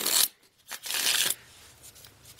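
Tarot cards shuffled by hand in two quick bursts of riffling and sliding, close and fairly loud, followed by a quiet pause with faint handling noise.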